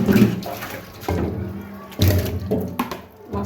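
Tap water runs and splashes while fish is washed repeatedly in a home kitchen, with uneven gushes, dull knocks of the fish and bowl, and pauses in the flow.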